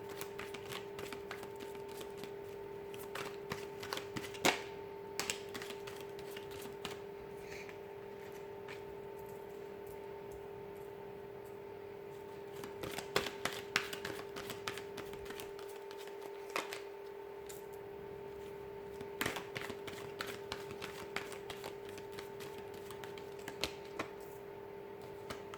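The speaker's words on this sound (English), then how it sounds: "I'm going to go ahead and give the cards a shuffle here" Tarot cards being shuffled, heard as quiet, irregular bursts of riffling and patter over a steady low hum, with no talking.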